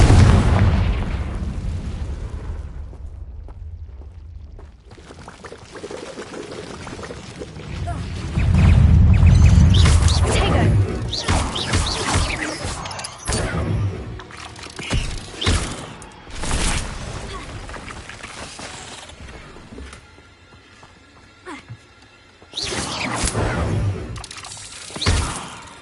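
Confringo, an explosive spell in a video game, goes off in booming blasts with shattering bursts and rumbling aftermath, loud, separated by quieter stretches with intermittent talking.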